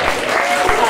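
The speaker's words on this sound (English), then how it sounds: "Give this man a round of applause." A short burst of crowd applause at a magic show, steady clapping from an audience filling the moment with no pause.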